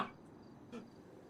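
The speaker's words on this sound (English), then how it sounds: "You could hear the crickets in the bushes out there." Crickets chirp in the bushes outdoors, a faint, thin, high trill with a couple of brief distant pulses in an otherwise quiet setting.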